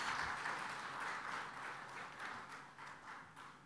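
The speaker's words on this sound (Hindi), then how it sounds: "तालियों के साथ।" Audience applause at an Eid Milan gathering in Hyderabad, a dense patter of many hands clapping that stays steady and fairly faint, slowly thinning toward the end.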